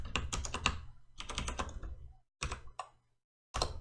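Bursts of rapid typing on a computer keyboard while entering PowerShell commands, close and clear, with a short pause before a final flurry of keys.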